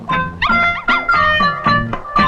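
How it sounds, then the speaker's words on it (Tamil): A small puppy gives a rapid run of high, yappy barks and whiny yips, about six close, loud bursts in quick succession with no talk over them. "அது குட்டி நாயி"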